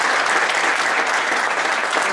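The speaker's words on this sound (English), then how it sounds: "a big round of applause again for John Hildebrandt" Steady audience applause fills a presentation hall at a Cedar Point off-season tour event, a dense continuous wash of many hands clapping at moderate loudness with no talk over it.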